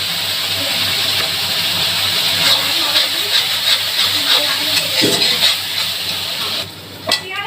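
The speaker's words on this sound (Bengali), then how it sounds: "মশলাটা এখন কষবো, ভালো করে মশলাটা কষাতে হবে।" Spiced masala paste with turmeric and salt stirred and fried in hot oil in a pan for a doi katla fish curry, a steady close sizzle with scraping stirs, quieting near the end.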